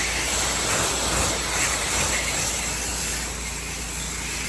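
A pressure washer with a hot detergent mix sprays a house's dirty front porch, a close, loud, steady hiss of water that runs the whole time without a break.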